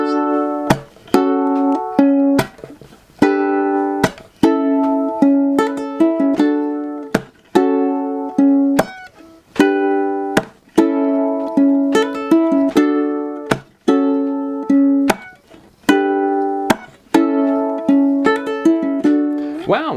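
A ukulele plays a song with hammer-ons and pull-offs, mixing bright picked notes with strummed chords in a steady, repeating rhythm. It is close, loud and clear, and there is no talk over it.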